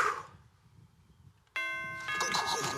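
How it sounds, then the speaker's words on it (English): A doorbell rings out at about the halfway point after a quiet stretch, its sustained chime tones hanging and layering as a second ding follows, fairly close and clear against faint background murmur. "You want to ring the doorbell?"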